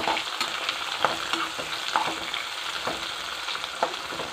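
Onions sizzle steadily in a pan, a continuous close crackle broken by several sharp scrape-like clicks of stirring.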